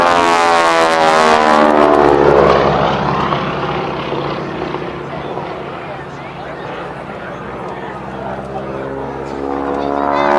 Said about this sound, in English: Look at the beautiful profile of this venerable Boeing Stearman biplane in the old-fashioned barnstormer.